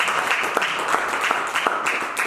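Church congregation clapping together during a worship service, a rapid patter of many hands in an echoing hall, steady and moderately loud, with a voice faintly present beneath.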